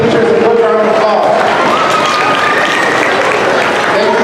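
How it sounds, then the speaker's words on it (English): Students at a school graduation applaud their teachers: dense, loud clapping from a large crowd that holds steady throughout, with some voices and cheering mixed in. "Students, please give your teachers a good round of applause"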